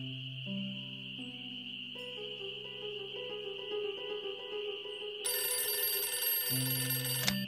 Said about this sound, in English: writing to you while I wait for the phone to ring